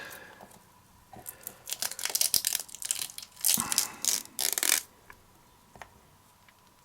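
Dried material peels off cling film in close crinkly crackling bursts that come in several rough waves, then trail off into quiet.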